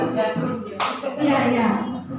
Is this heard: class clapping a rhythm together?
yes